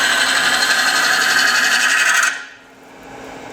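A wood lathe turns end grain while ring and hook tools take bevel-rubbing cuts, giving a steady buzzing whine with a rough scraping texture. The sound cuts off abruptly, leaving a quiet low hum.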